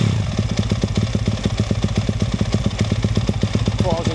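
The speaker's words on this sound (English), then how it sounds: "maybe do a couple of sound tests on some other bikes" A motorcycle engine runs during a quick sound check, with a loud, close, rapid lumpy idle throb that stays steady and even, a few faint voices just under it.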